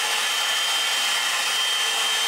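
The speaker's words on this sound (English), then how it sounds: "hit it with a blow dryer and do it outwards" A handheld blow dryer runs steadily while drying hair after a haircut, a constant close airy whoosh with no pauses or talk.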